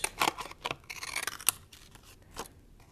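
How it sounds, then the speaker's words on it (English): Scissors trimming around the edges of a paper card, a quick series of crisp snipping cuts close by, clustered at the start and tapering to a few quieter snips. "once you trim your card and you've got it, go around all the edges"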